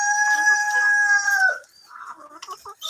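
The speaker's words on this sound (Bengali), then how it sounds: "আর এটা হচ্ছে আমাদের সিল্কি মুরগি" Silkie chicken on a farm giving a drawn-out, tonal call followed by softer broken clucks, near and fairly loud.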